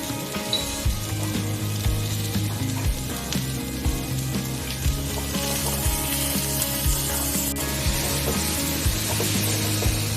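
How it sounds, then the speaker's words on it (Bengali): Spice paste for Chitol fish kalia frying slowly over low heat in a pan, a steady soft sizzle with faint watery crackle running throughout at moderate, even loudness, no voices. "ওইদিকে মশলাটা প্রায় আস্তে আস্তে ভাজা হচ্ছে"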